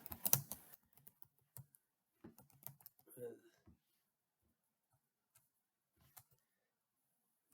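Typing on a computer keyboard while setting up a cloud VM instance, a few scattered close key clicks in short bursts with quiet gaps, mostly faint.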